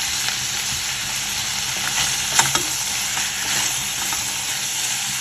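Tomato and onion sauté in a pan for chutney, giving a continuous close sizzle and frying hiss, with occasional scraping stirs and one sharper clatter midway.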